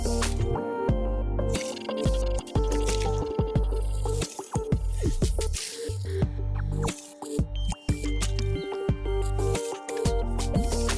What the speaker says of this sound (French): Je démarre l'impression.